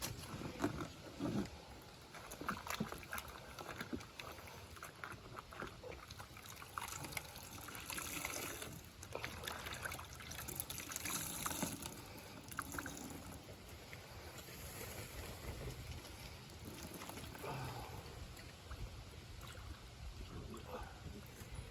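Laundry is washed by hand in an off-grid rinse bucket with a washboard, producing continuous sloshing, splashing and trickling water up close, with a voice talking at times.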